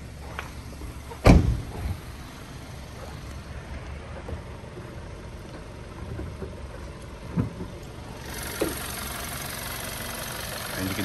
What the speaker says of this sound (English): Motor runs nice and smooth.